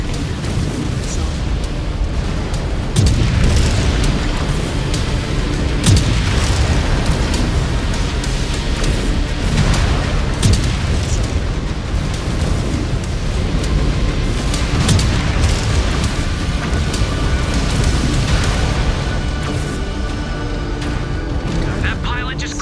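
Incoming missile explosions in MechWarrior 5: Clans, loud repeated booms and sharp bursts crashing over a constant low rumble of battle, with voices speaking intermittently throughout.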